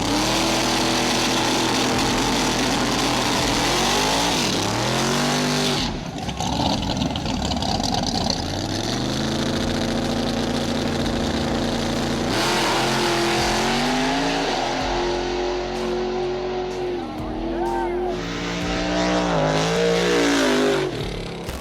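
Drag race between a blue and a red Ford Mustang at a Chicago street racing event, loud roaring engines accelerating hard with rising and falling revs and gear changes, continuous and close with a brief dip mid-run.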